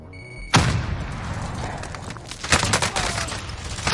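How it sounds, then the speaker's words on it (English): A grenade explosion in a video game bursts suddenly and loudly, followed by rapid volleys of gunfire and echoing booms that rise again a couple of seconds later. "Grenade out!"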